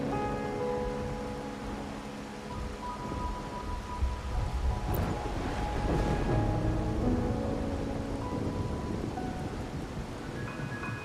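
Steady rain with rumbling thunder in the video game Wuthering Waves, a continuous wash of downpour with a low roll of thunder swelling midway, layered over soft musical tones and no speech.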